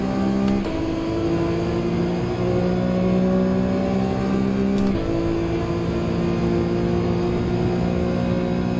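Race car engine in Gran Turismo 7 held under steady throttle, a loud sustained drone with strong harmonic tones that shift pitch twice as gears change, continuous and close with no talk.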